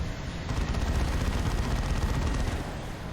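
Continuous heavy automatic cannon fire from an assault cannon in the Warhammer 40,000 strategy game Dawn of War II, a dense unbroken roar of rapid shots lasting the whole moment.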